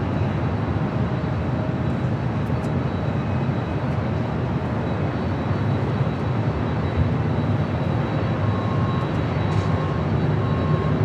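Continuous jet engine roar from airliners at LAX airport, a steady broadband rumble with a faint whine, loud and unbroken throughout with no talking.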